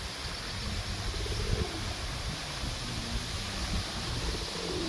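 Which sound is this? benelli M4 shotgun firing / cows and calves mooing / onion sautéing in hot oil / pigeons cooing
pigeons cooing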